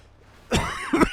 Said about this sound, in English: Sorry for the cough, guys.